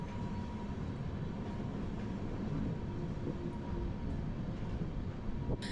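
Train on the Araku Vistadome route, a continuous loud rumble and rattle heard from aboard, steady throughout with faint squeals and clicks toward the end.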